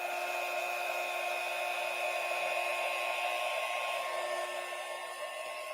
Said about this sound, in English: Hitting it with the heat gun definitely helps it.